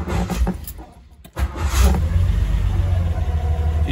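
The Ford Essex 3-litre V6 in a Triumph Stag cranks and catches, then settles into a rough running rumble. A brief quiet gap comes just before it fires.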